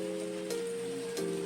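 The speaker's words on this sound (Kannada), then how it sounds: "ಮಳೆ ಬರತ್ತೈತೆ ಹೊರಗೆ ಭಾಳ." Heavy rain falls outside as a steady, even hiss under a constant low hum, with no voices, over a brief moment.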